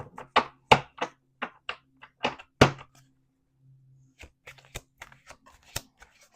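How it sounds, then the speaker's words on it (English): Crisp rapid riffling bursts of tarot cards being shuffled, several quick flurries close up, then scattered single snaps and taps in a quiet room. "There's two more shuffles."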